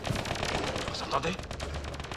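Gunfire in the sci-fi shooter Mass Effect Andromeda: dense, continuous bursts of shots and impacts fill the whole stretch, loud and close, with game voices and effects mixed underneath.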